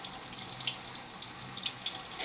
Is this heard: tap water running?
yes